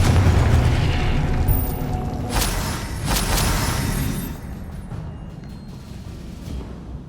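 Confringo blasting spells detonate in a Harry Potter video game: a loud, rumbling roar with two sharp bursts in quick succession, then the boom fades to a lower, lingering rumble.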